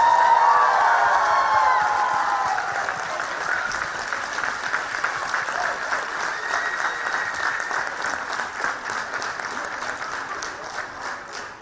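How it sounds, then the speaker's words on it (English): Families in an audience applaud and cheer for participants at a dance event, making a loud, sustained wash of clapping with whoops that holds for several seconds and then eases off slightly. "will the families give them a huge round of applause?"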